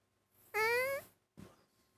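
A domestic cat gives one loud, drawn-out meow close by, followed by a brief softer sound.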